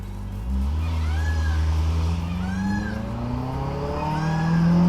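A Ferrari F8 with a twin-turbo engine and full Boden exhaust accelerates hard from inside the cabin, its loud drone climbing steadily in pitch with turbo whooshes and whistles, while people talk faintly under it.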